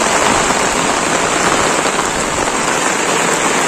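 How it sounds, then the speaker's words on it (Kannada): Heavy rain pours steadily onto a farm with tomato plants, a dense, loud, unbroken hiss of drops hitting surfaces close by, with no voices. "ಇದೇ ತರ ಮಳೆ ಆಗ್ತಾ ಇದೆ"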